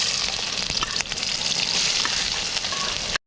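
Onion dropped into hot oil in a pan at a riverside camp cookout sizzles and crackles steadily and loudly at close range, with brief stirring, then cuts off abruptly.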